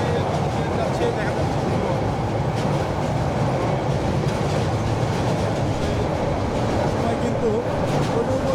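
Kurigram Express train crossing a bridge, a loud continuous rumble and rattle heard from inside a carriage, with faint rhythmic clatter throughout.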